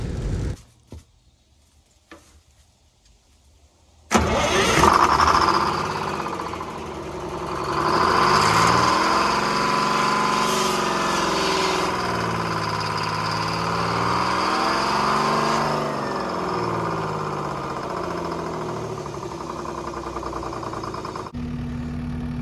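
A 10x10 Crane Carrier cement truck's diesel engine cranks over and fires after a few quiet seconds, then runs at a loud, rough idle with wavering revs, close by before cutting off near the end.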